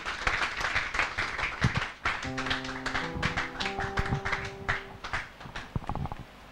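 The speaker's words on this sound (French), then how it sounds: "Pendant qu'il avance, nous acclamons." A French-speaking church congregation applauds in a quick, rhythmic patter of many hands, joined by sustained musical tones in the middle.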